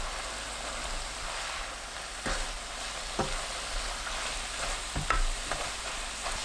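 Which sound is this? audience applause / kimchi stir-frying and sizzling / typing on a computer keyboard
kimchi stir-frying and sizzling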